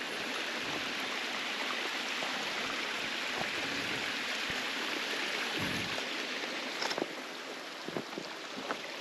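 A small mountain stream on the Appalachian Trail rushes and babbles continuously, a steady full wash of water with a few brief splashes near the end.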